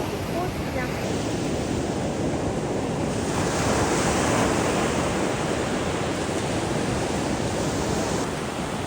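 Ocean surf rolls in at Canggu, Bali, a loud continuous wash of breaking waves mixed with gusting wind noise on the microphone, steady and close, with no clear talk over it.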